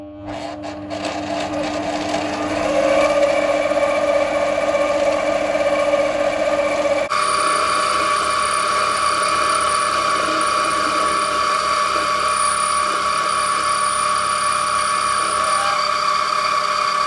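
An Amadeal CJ18A 7x14 mini lathe cutting metal, a loud continuous mechanical whine and gear drone with a sustained tonal cutting ring that shifts character partway through, steady and close with no talk.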